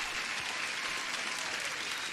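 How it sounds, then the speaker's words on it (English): Dense, steady applause from a crowd at a live session in London, continuous and even in loudness throughout, with no voices standing out. "Here's the applause for everyone."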